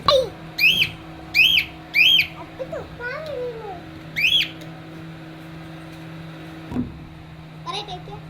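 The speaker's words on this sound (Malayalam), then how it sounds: "ഞങ്ങൾ സൂപ്പർ തത്തേനെ വാങ്ങിയിട്ടുണ്ട്" A parrot gives sharp, shrill calls close by, several in a quick series and then one more, with softer sounds and quiet gaps between.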